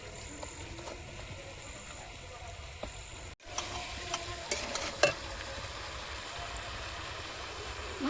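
Spices fry and sizzle in hot oil for a mango-peel pickle while a utensil stirs them in the pan, a soft, steady crackle with scraping stirs and occasional clinks, fairly quiet throughout.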